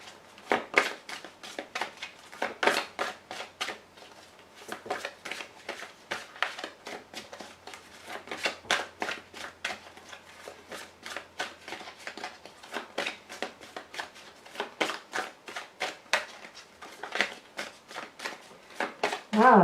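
Tarot cards are shuffled by hand in a steady run of crisp, rapid flicks and slaps that repeat for the whole stretch, close and fairly loud, with a voice faintly present at times.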